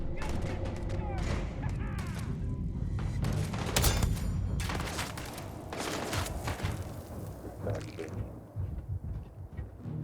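Gunfire from a firefight in the space role-playing game Starfield, with dense overlapping shots and booms that continue throughout and mix with other busy game sounds at a fairly loud, chaotic level.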